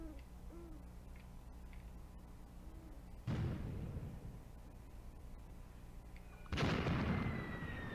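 Enemy artillery fire in the tactical war game Graviteam Tactics, shelling a small hamlet: two loud, broad blasts a few seconds apart with rumbling tails, over a quiet ambient background with faint owl-like hoots.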